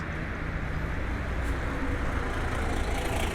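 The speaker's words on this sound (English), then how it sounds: "a field recording, if you will, of a bus station." Steady low rumble of idling engines and traffic fills a bus station, a continuous ambient wash with no distinct voices.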